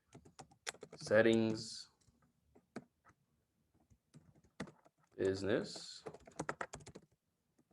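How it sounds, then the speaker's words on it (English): Quick bursts of clicky keystrokes on a computer keyboard patter in short runs, fairly close, while a person talks between and over them. "Let me type it in the chat too."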